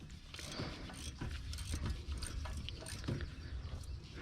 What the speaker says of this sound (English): This is one of my ratchet wrenches.